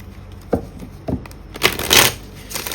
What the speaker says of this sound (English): I just want to shuffle these because I kind of mix the cards up